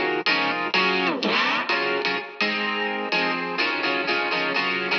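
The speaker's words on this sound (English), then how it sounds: "Next is a spring reverb, and because it's modeled on a reverb that actually uses a coiled metal spring, it sounds quite metallic" Electric guitar chords pass through a spring reverb, giving a loud, metallic, splashy tail and a wobbling twang on each strummed change, with the chords sustaining almost continuously.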